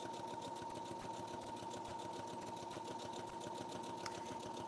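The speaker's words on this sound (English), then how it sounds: "All right, so we're just gonna keep on sewing." Sewing machine stitching a fabric apron, a steady fast mechanical whir with a rapid even needle rhythm, running continuously and alone at moderate level.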